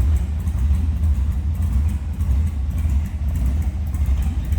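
A 1936 Ford Model 68 Deluxe street rod with a carburetor setup idles with a steady, low, throaty rumble, close and even in tone with no revving.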